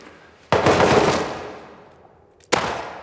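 Two loud bursts of rapid automatic gunfire in the video game Rust inside a military tunnel, the first rattling for about a second and echoing away, the second starting near the end.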